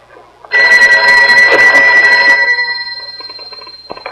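An old telephone bell rings loud and close in one continuous burst that fades slightly toward the end, with no speech over it.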